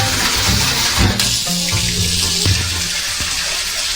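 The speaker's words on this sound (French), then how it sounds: "je vais littéralement mettre de l'eau dedans." Tap water runs into a small container, a gushing pour with gurgles and splashes, loud and close, then settling as the level rises.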